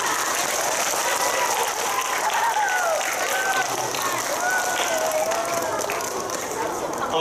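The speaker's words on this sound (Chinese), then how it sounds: "给他们掌声鼓励哦" A fourth-grade classroom breaks into steady applause from the children, a dense, even clapping that runs the whole time with voices mixed in.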